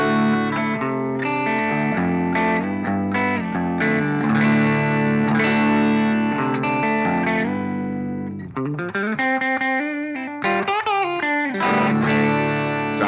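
Distorted electric guitar with both pickups selected, a Gibson Les Paul Studio, Yamaha Revstar RSP20CR or Epiphone Casino, playing sustained chords and then choppier picked phrases, loud and close with effects, no talking.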